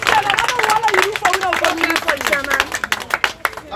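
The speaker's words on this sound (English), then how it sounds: "Clap for chairman, no clap for chairman" A crowd at a Sierra Leone community football gathering claps rapidly and unevenly for the chairman, dense close hand claps running the whole way through under a loud voice speaking and background crowd murmur.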